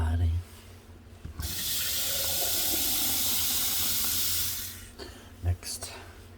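Tap water runs steadily into an old flower vase during a rinse, a close, loud, hissing rush lasting several seconds, with clunks and handling noises before and after.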